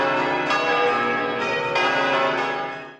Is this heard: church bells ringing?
yes